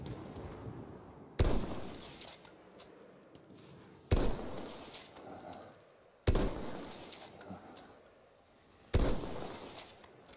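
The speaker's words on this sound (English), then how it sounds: "The enemies are being halted by our artillery barrage." Artillery barrage in the Battlefield 1 beta's Rush mode: four heavy blasts land a few seconds apart, each a sharp loud burst trailing into a rumbling decay, with no voices.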